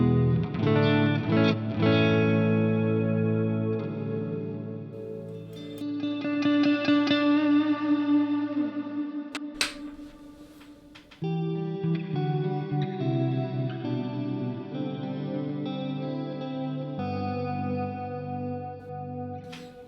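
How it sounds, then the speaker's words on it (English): Electric guitar chords and notes played through a Boss RV-6 dynamic reverb pedal, the wash swelling and softening with picking strength, sustained tails ringing between phrases. "this is a reverb that adjusts its depth based on your sort of touch sensitivity"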